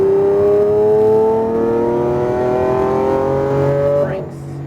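A Lamborghini Aventador on a race track accelerating under throttle, its engine note rising steadily and loud inside the cabin before the revs drop off briefly near the end, with a voice speaking over it.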